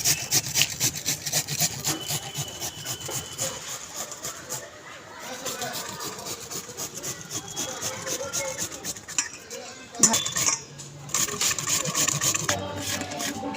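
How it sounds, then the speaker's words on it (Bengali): Peeled cucumbers rubbed against a metal grater into a bowl for raita, a steady, close rasping scrape in quick repeated strokes with brief pauses, continuous throughout. "এবার এর মধ্যে আমি শসাগুলো গ্রেট করে নেব।"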